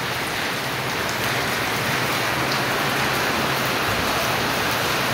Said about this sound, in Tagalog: lumaragasa ang ulan